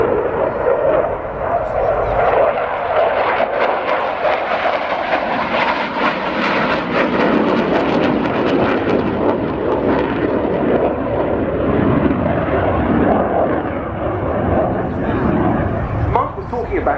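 A multi-role fighter jet flies a display at the 2022 Royal International Air Tattoo, a loud, continuous roar that swells and shifts, while a commentator talks over it throughout.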